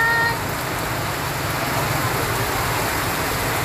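Heavy rain pours steadily in a dense, even hiss, close and loud, with a low rumble underneath as floodwater begins to rise on the street.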